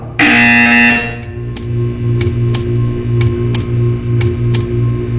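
A loud electronic buzzer in a puzzle video game blares briefly, followed by a low steady hum with a series of sharp clicks or ticks at regular intervals.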